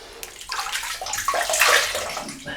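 Warm water splashing as hands wet the face before a shave, a brief close burst of sloshing and dripping that swells slightly and then trails off, with no talking.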